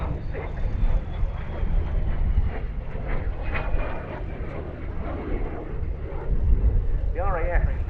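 A de Havilland Vampire FB.6 jet at the Duxford air show gives off a steady, distant engine roar and whine that carries under continuous commentary.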